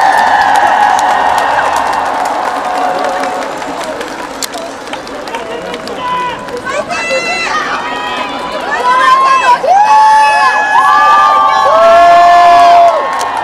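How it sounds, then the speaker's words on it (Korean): Stadium crowd at Jamsil Baseball Stadium cheering and applauding for baseball player Son Ah-seop at a ceremony marking his career hits record during an NC versus Doosan game, a loud, sustained roar with shouts and whoops while an announcer talks over it. "앞으로도 계속 기록을 써나갈 손아섭 선수에게 응원의 박수"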